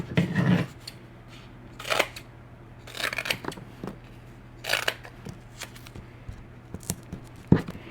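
Paper for an Easter card trimmed with scissors, about six separate crisp snipping bursts spaced irregularly over a quiet background with a low steady hum, close and fairly loud, no talking.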